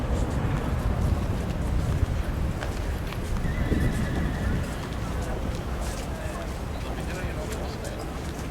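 Horses of the royal guards clip-clop outdoors at a guard change in Morocco, hooves faint and steady beneath constant wind and crowd noise, with a brief whinny partway through.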